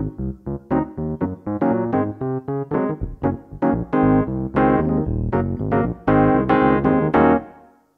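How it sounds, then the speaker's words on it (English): A Yamaha P515 portable keyboard plays its Fender Rhodes stage electric piano voice, a run of bell-like chords and notes with a quick, steady rhythm that ends with one sustained chord fading out. "this is the sound of the Fender Rhodes, which was the suitcase piano"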